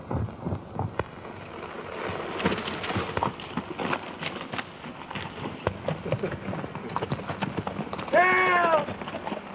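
Horses' hooves clip-clop in a steady rhythm on a trail in a 1931 Western, close and moderately loud under people talking, with a horse whinny near the end.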